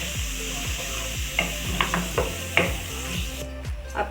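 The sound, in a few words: boiled chickpeas added to frying masala, stirring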